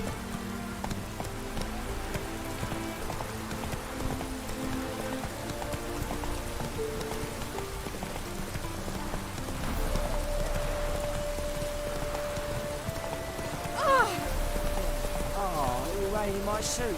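Steady light rainfall in The Witcher 3 video game, in Skellige, patters across the whole clip, with a faint tonal hum and a brief sharper sound near the end.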